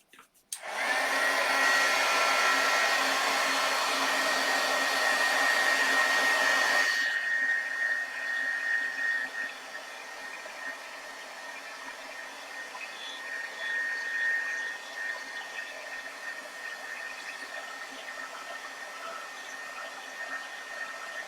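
A hair dryer blasts close up while drying paint on a wooden gnome, a loud steady whooshing roar that drops to a lower setting after about seven seconds and runs on.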